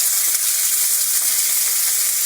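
Onion, green chillies and garlic frying in hot oil, a loud, close, unbroken hiss of sizzling with no voices.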